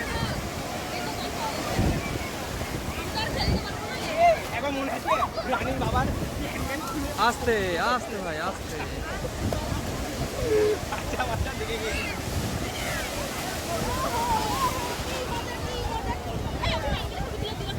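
Sea waves wash and surge at Digha beach beneath steady wind buffeting the microphone, while people talk nearby.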